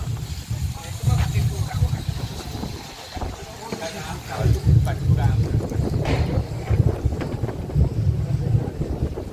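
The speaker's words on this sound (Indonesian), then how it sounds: "daerah sini itu sering angin." Gusty outdoor wind buffets the microphone in low rumbling bursts throughout, rising and falling, with faint voices in the background.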